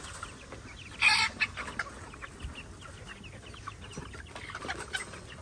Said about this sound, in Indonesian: Jom kita lepaskan ayam baru.